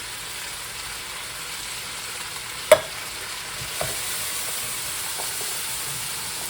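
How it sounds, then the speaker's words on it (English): Red kidney beans stirred in a pan for cheesy mac: a steady low sizzle and hiss with one sharp clack of the spoon and a fainter knock a second later. "Give it a stir."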